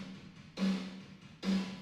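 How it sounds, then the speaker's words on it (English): Arturia Rev Plate 140 plate reverb plugin on a rock mix parallel group, heard as two loud, bright bursts with a low hum, each decaying into a wide, smooth shimmering tail. "We have a plate reverb, which sounds like this."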